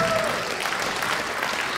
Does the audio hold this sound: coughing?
no